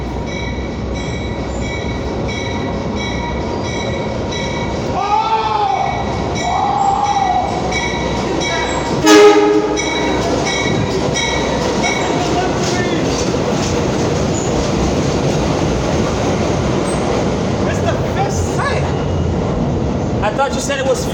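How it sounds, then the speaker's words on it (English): A subway work train rolls through Chambers Street station with a loud rumble, rail clatter and a brief metallic squeal, while people talk nearby throughout. "we got a work train right there."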